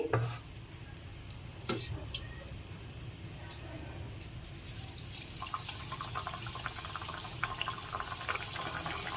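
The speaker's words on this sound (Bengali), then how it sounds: "আর বাকি খাজাগুলোকে আমি ভেজে নিচ্ছি" Khaja pastries fry in a pan of oil with a soft, steady sizzle, joined by occasional scraping and clinking as they are stirred and turned, all fairly quiet and close.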